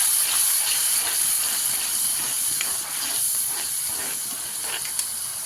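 Tomato and onion roasting in a pan over a low to medium gas flame for an egg curry, giving a steady, close hiss of sizzling that runs unbroken with faint crackles and no talking.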